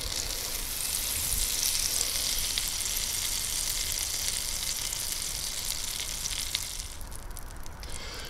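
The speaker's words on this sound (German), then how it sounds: "Butter und Öl sind jetzt geschmolzen und jetzt lege ich hier mein Rouladchen hinein." Butter and oil sizzle in a Dutch oven before beef roulades go in, a steady, close frying hiss that runs the whole way through, easing slightly near the end.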